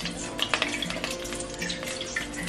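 Grated coconut soaked in hot water is strained by hand to press out coconut milk, giving a steady, close wet splashing and trickling with small squelches and no voices.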